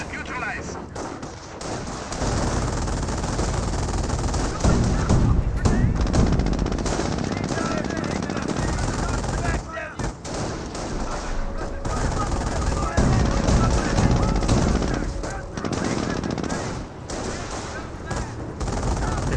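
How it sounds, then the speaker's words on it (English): Autocannon fire in the Company of Heroes 1 battle game, Panzer Elite against US forces, with dense bursts of rapid shots and explosions running throughout beneath a commentator's talk. "does get ripped apart there by the autocannon"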